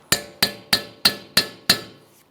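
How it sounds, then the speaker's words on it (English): Hammer drives a chisel to break a rusted, stuck snap ring loose while replacing a brake dust shield on a 2006-2012 Ford Fusion. Six sharp, ringing metallic strikes land at an even, steady pace, loud and close. "If it's stuck in place, we'll just break it free with a hammer and chisel."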